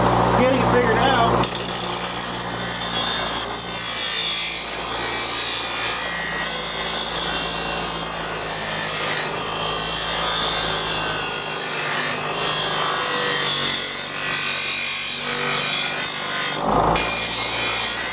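A Hart bench grinder sharpens a mower blade with a harsh, rasping grind that runs steadily for most of the stretch, briefly interrupted near the end, with some low talk underneath.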